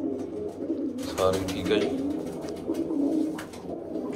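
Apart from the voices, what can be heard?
pigeons cooing in a loft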